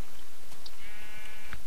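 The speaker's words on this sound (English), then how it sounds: "There's some sheep." Sheep in Minecraft bleat loudly and close by, a couple of short wavering cries over a steady background hum, with no talking.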